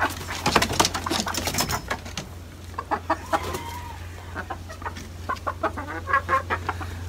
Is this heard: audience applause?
no